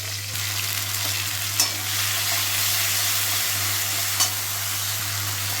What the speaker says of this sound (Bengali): এইবার এই জলটা ফুটছে, এর ওপর আদা বাটা আর সামান্য হলুদ।